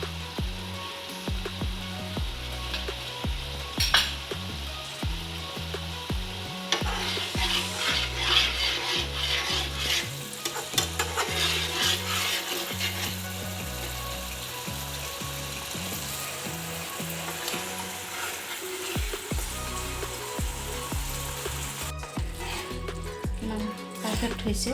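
Shahi paneer gravy simmers and sizzles in a pan in a steady low crackle, with occasional utensil clinks and a voice talking over it.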